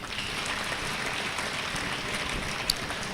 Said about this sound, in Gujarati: તાળી પાડો બધા એકબીજા માટે